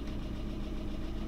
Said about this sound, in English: See if the idle's any better.